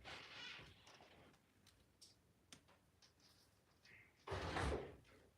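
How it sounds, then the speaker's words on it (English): Car doors shut inside a vehicle: a few soft knocks in a quiet cabin, then one louder, fuller thud near the end. "I close the doors."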